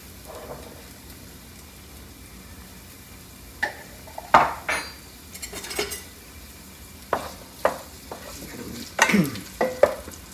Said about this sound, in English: I'm going to throw my tomatoes in there